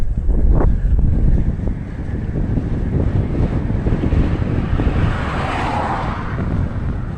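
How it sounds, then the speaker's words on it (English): Gusty wind buffeting the microphone on an empty road in the middle of nowhere, a loud, continuous low rumble that swells and eases, with a faint passing whoosh in the background. "because it's a bit windy"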